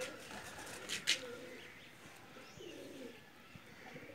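A pair of teddy pigeons coos softly in a quiet setting, with a couple of brief sharper calls near the start and low, faint murmuring after.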